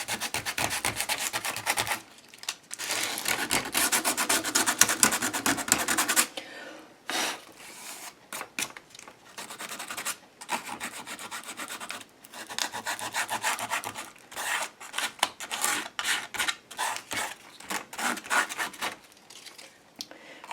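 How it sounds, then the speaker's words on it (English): Sandpaper rubbing over a paper craft building, a dry scratchy rasp in steady back-and-forth strokes, close and fairly loud, with short pauses between bursts and no talking. "Sandpaper on this building."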